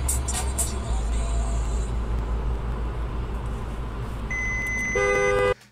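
A car's driver-assistance system sounds a short series of rapid electronic warning beeps near the end, over steady engine and road noise inside a moving car.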